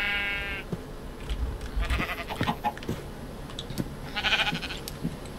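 Several short bleats from sheep in the video game Minecraft, sounding at moderate loudness among other game sounds, with the calls coming in separate bursts.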